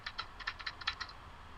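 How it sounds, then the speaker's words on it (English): Fingers tap quickly on a computer keyboard, about a dozen light clicks in a fast burst, faint and close with no talk. "what are you typing?"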